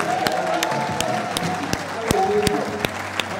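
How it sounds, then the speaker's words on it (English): Steady applause from a church crowd at a miracle service, with sharp individual claps standing out over continuous clapping and a faint voice underneath. "give Jesus a round of applause"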